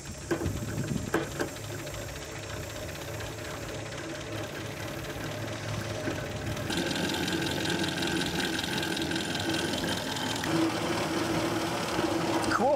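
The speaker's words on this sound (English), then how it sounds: "I think what I might do now is just apply 12 volts to the motor" Electric motor of an ElecTrak rat rod running on 12 volts, giving a steady mechanical whir and hum that strengthens partway through and runs on evenly without talk.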